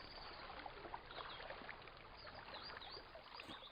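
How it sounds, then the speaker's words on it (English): River water flowing steadily through woodland, a constant broadband rush and trickle with no pauses, fairly close and even in level throughout. "there's the constant sound of flowing water"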